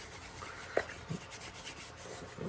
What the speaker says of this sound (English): But we're just going to put a light coat of wax.